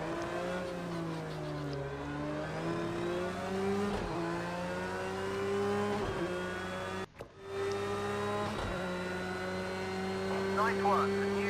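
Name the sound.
race car driving at Spa in video game Project Cars 2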